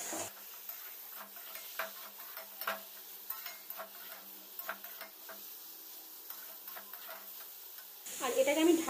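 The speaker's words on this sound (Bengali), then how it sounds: "এবার এটাকে ভালো করে আমি কষাতে থাকবো জল ছাড়া।" Meat is stir-fried dry in a pan without water, and a spatula scrapes and taps it in an irregular rhythm over a faint sizzle. Near the end comes a short burst of louder noise.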